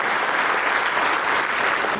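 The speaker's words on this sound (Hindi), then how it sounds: "मैं अपने कलीग से आग्रह करूंगा कि एक बार जोरदार तालियां हमारे अभिकर्ता साथियों के लिए चाहिए" An audience at an award ceremony for an insurance branch claps loudly, a dense continuous applause filling the whole stretch.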